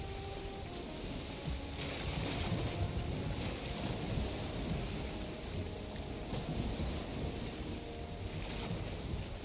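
Sailing boat moving across open water in the video game Valheim, a steady, quiet wash of waves and wind with no talk.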